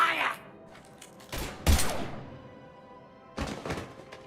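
Gunfire in a Mass Effect Legendary Edition battle: a few sharp, separated blasts and thuds, loud and close, with gaps of quieter ambience between them.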